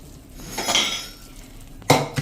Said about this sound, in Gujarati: હવે આપણે ગેસ બંધ કરીને અને આને આપણે નીચે લઈ લેશું.